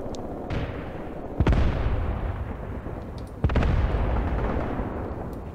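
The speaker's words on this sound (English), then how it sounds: "our mortars are laying down some suppressive fire" Mortar suppressive fire in the war game Graviteam Tactics: two sharp, heavy distant blasts about two seconds apart, each trailing off into a rumbling roll over a constant noisy battlefield backdrop.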